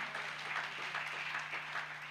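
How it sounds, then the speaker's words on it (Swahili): A church congregation applauds together during a testimony moment, a steady, moderately loud wash of clapping that carries evenly from start to finish with no voices standing out. "tumpe bwana makofi kwa sababu anastahili"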